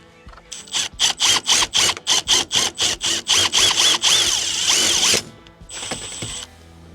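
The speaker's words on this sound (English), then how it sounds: "All right, so we drilled through that with a 3/8 bit." A power drill with a 3/8 bit bores through a zero turn mower's canopy up close, loud rhythmic pulsing bursts of whirring that merge into a continuous grind before stopping, then a brief final spin.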